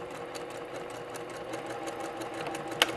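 A sewing machine stitches a 2.5 inch fabric strip onto a quilt hexagon, running with a steady, continuous close-up hum and whir and a sharp click near the end.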